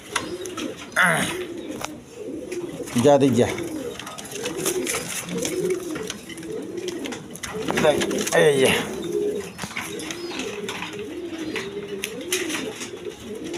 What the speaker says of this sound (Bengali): একবার দেখার মতো কোয়ালিটি সম্পন্ন কবুতর